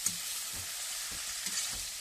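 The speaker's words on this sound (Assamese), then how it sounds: "অকণ মাংসও ভাজি ল'ব লাগিব" Pork frying in a pan in a village-style Assamese kitchen, stirred with a few scraping strokes over a steady, close hiss of sizzling fat.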